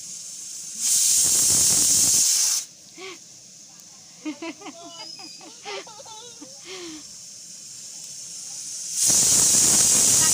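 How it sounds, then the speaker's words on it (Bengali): A pressure cooker lets out two loud bursts of steam hiss, one near the start and one at the end, with quiet talking in between. "প্রেশার কুকারে সিটি পড়ছে"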